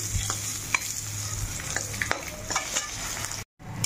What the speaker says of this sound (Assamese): কচুটো ভাজি আছোঁ